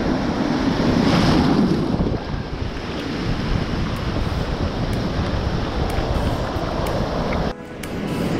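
Ocean waves wash continuously onto a sandy beach on a fishing outing, a loud, steady surf roar mixed with gusting wind buffeting the microphone and no voices.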